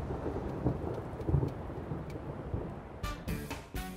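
Steady rain falling with low rumbling thunder rolling through it, followed near the end by a few sharp, bright crackling bursts, no voices.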